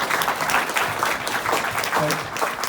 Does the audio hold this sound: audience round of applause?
yes